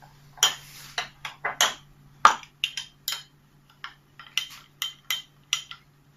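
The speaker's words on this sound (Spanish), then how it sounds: "Lo mezclamos un poquito con una cucharita" A small spoon clinks and scrapes against a bowl while stirring a tomato streusel mixture, a dozen or so quick irregular taps close up over a faint steady hum, with no talking.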